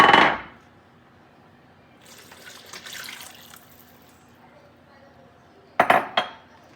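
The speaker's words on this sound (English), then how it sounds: "Just a quick mix again, just to make sure everything's not settled at the bottom." A quick mix of batter in a bowl brings a sharp utensil clink at the start, some soft scraping and stirring in the middle, and a short burst of clinks near the end.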